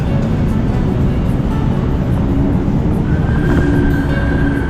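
LRT light rail train ride, heard from on board: a loud, continuous rolling rumble with a faint high squeal rising near the end, and no voices.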